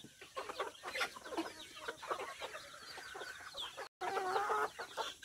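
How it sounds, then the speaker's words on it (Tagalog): Native farm chickens cluck and chatter close by, several birds overlapping in busy, uneven bursts with a short gap near the end before the clucking resumes. "Chicken everywhere."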